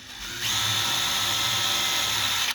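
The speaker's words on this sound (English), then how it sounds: "So we're going to use the 5/64 screw or drill bit, and I'm going to take and drill a 1/2 inch in." Power drill running a 5/64 drill bit into a mark on a bean plate, a steady high-pitched whine for about two seconds after a brief spin-up, loud and close, no talking.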